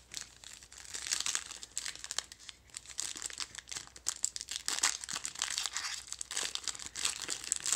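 Foil packs of 2018 XR football trading cards being ripped open by hand, a steady run of close, crisp crinkling and tearing with short pauses, with no talking.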